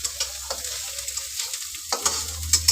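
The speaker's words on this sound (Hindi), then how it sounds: "अभी हम प्याज को मिक्स कर दे रहे हैं कब इसका कलर लाल आएगा" Onions fry in a pan under a spatula, with a soft sizzle broken by rhythmic scraping and tapping strokes, close up and without speech.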